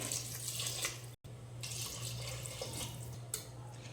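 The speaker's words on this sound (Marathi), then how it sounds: "आणि यामध्ये आपल्याला पाणी घालून घ्यायचे" Water running steadily from a tap with a brief break, splashing as it fills a pot of matar pulao, alongside a low constant hum.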